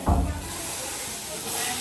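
A burst of loud hot-oil sizzling as spices hit the pan for tempering dal, settling into a steady close hiss.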